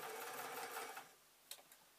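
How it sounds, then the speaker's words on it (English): A sewing machine stitches a line across the top of a fabric strip, a steady fast whirring run for about a second before stopping, followed by a couple of faint clicks. "I'm going to place this under the foot and I'm going to sew a line at the top here"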